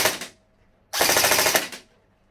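HL-015 Honey Badger gel blaster by X-Force Tactical firing two loud, close bursts of rapid automatic shots, a short one followed by a longer one after a brief pause.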